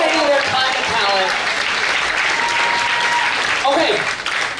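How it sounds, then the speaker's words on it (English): Loud, sustained applause from a holiday concert audience, a dense roar of many hands with some cheering mixed in, steady for several seconds before tapering slightly. "Give them a huge round of applause"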